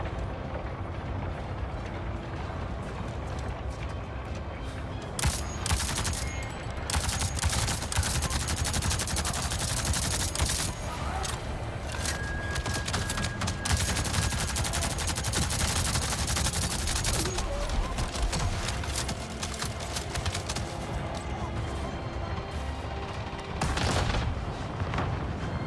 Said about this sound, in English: Gun turrets.